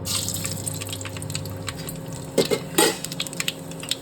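Mustard seeds crackle and pop in hot oil in a pan while making a garlic chili chutney, with a few sharp bursts of spattering over a steady low sizzle.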